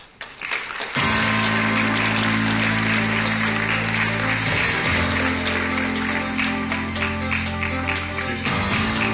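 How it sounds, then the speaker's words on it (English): Audience applause for a keynote speaker in a Tokyo conference hall, a steady wash of clapping under loud music that plays throughout. "please give a warm round of applause for Kareem"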